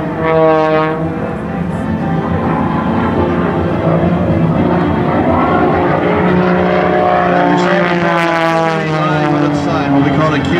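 A high-performance MX-2 aerobatic propeller plane performs airshow maneuvers with a loud, sustained engine roar that rises and falls in pitch through the climbs and rolls, under a commentator's narration.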